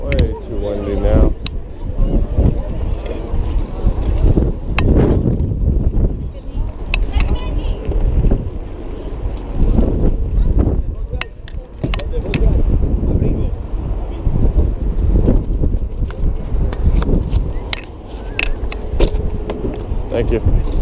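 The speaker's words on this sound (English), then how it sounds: "Oh, it's getting way too windy now." Strong wind gusting across an outdoor flea market, a steady roar and buffeting on the microphone that runs the whole way through, with people talking close by and occasional sharp knocks.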